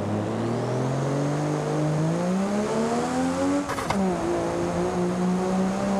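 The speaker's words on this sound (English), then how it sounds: "Look at that exhaust pipe rattling." A Nissan R34 GTR in BeamNG Drive revs steadily with a loud, rising engine drone, a rattling exhaust buzz running under it and a short tire scrape near the end, with no talking.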